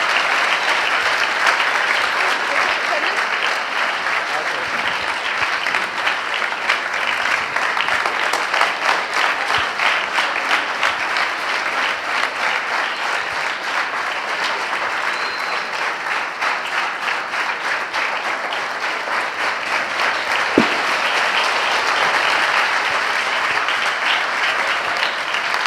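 An audience gives Pastor Ghazala Shafiq a warm welcome with dense, steady applause that stays loud and even for nearly half a minute, with no talking over it.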